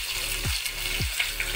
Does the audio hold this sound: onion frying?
yes